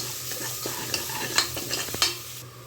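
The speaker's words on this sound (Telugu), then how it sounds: "ఇది వేసుకొని దీని స్మెల్ పోయే వరకు ఒక 1 మినిట్ ఫ్రై చేస్తే సరిపోతుంది." Chopped tomato with salt, chili powder, garam masala and coriander powder sizzles in a pan while a spoon stirs it in quick scraping bursts, close and moderately loud.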